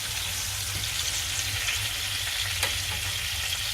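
Salmon frying in a pan over a slow flame, an even, dense sizzle with a low bubbling hum and an occasional faint tap, steady throughout.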